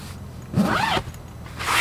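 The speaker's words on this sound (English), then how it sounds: "Just run your zippers up and you're closed." A roof top tent zipper is drawn closed in two quick runs, a close, raspy zip followed by a second pull after a brief pause, with no voices.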